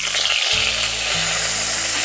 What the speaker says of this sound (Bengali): আমটাকে ফোড়নের সঙ্গে একটু ভালো করে ভেজে নেব